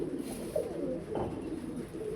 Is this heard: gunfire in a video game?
no